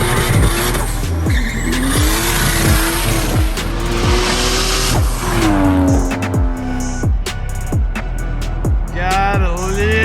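Toyota Supra with a 2JZ engine and log manifold tearing along a street, engine revving hard through repeated gear pulls while tires squeal and skid, loud and close throughout.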